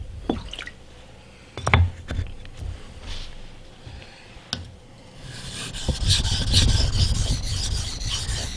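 A convex-ground knife blade sharpened on the 1000 grit side of a whetstone, heard as close gritty rasping strokes and scattered clicks, building into a dense, continuous wet scraping toward the end.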